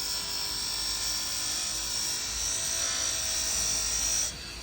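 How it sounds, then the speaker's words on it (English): A pine knot Bowie knife handle being buffed smooth on a power buffer, giving a steady, loud high-pitched whine that holds for about four seconds before cutting off. "I'm just buffing this to get it smooth."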